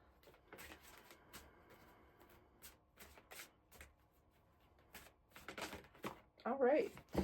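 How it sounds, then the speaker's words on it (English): Cards being shuffled in quick riffling bursts, close and fairly quiet, with brief pauses between them and a voice talking briefly near the end. "These cards can be so difficult to shuffle."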